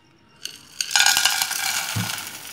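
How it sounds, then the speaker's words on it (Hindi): Chaar gond, an edible gum, shallow-fries in ghee in a pan, breaking into a bright continuous sizzle after a couple of light clinks, with a soft stir or thud near the end. "ये 200 ग्राम चार गोंद है जो हमने लिया है। अब इसको हमने शैलो फ्राई करना है।"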